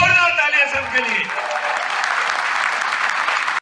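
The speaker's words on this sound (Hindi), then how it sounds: "एक बार जोरदार तालियां सबके लिए।" A loud burst of applause from a crowd at an RCM business meeting in Noida fills the room, dense and sustained, following a brief stretch of voice at the start, then cutting off abruptly.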